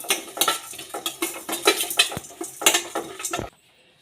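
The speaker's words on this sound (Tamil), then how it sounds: "இது ஒரு கடாயில் போட்டு நல்லா வறுத்து எடுத்துக்கலாம்" Dal, potato and coconut dry-roasting in a kadai, rapid metal scraping and clattering of a spatula against the pan in quick bursts, close and loud, stopping abruptly near the end with no voices.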